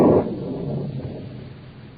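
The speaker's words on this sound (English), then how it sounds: "Just distant thunder." Distant thunder rumbling in an audio drama scene: a low, muffled boom that starts loudest and decays into a sustained rolling rumble, heard alone without voices.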